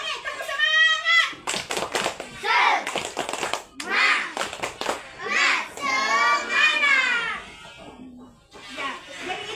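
A class of children performs the Indonesian tepuk semangat spirit clap, sharp rhythmic hand claps mixed with their chanting and talking voices, close and lively in a classroom.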